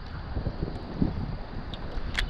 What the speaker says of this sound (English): It is windy this evening, like all down here.